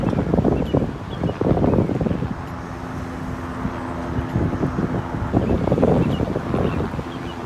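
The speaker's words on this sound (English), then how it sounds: "it suddenly got extremely windy" Gusting wind buffets the microphone in heavy rumbling bursts, easing in the middle before surging again; a faint steady hum sits underneath.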